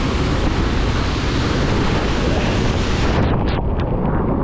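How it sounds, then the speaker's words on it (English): Strong wind blows close to a waterfall, a loud, steady roar of broadband rushing noise with buffeting on the microphone that eases slightly near the end. No one speaks. "The wind is strong."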